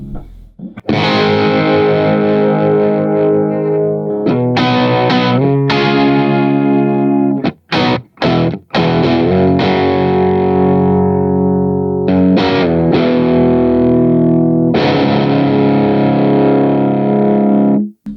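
Heavily distorted electric guitar, a Fender American Professional Telecaster HS on its bridge pickup, with a bright, aggressive tone, loud sustained chords broken by a few quick choppy stops, played alone.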